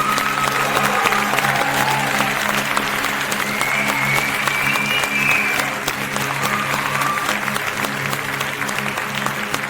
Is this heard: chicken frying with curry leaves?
no